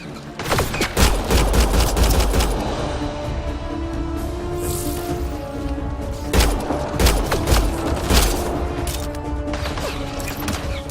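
Rapid bursts of pistol fire in Mass Effect: Andromeda crack out in loud, clustered volleys, with sharp impacts and mechanical clatter between the shots and no talk over them.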